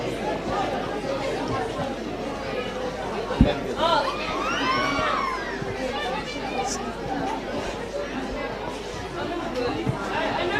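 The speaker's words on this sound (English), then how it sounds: "There's a good crowd in today" Steady crowd chatter fills the stands at a women's Premier League football grand final between Warners Bay and Merewether United, a dense hubbub of many voices with brief rises of cheering, continuous throughout.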